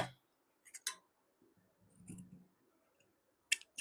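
Scissors cut through a fabric finishing strip and lace, giving a few short, crisp snips close by with quiet gaps between them.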